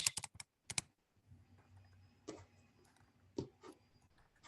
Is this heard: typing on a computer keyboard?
yes